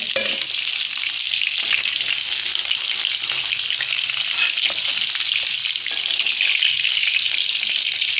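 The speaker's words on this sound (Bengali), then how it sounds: "হালকা মাছ ভেজে নিচ্ছে" Steady, dense sizzling and crackling of catla fish frying in hot oil, close and continuous throughout, with faint clinks of a utensil now and then.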